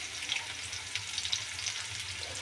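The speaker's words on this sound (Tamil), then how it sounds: "வெங்காயத்தை நல்லா ஃப்ரை பண்ணிக்கலாம்." Finely chopped small onions fry in a pan for cabbage palya, giving a continuous even hiss with light crackling flecks, close and alone, with nobody speaking.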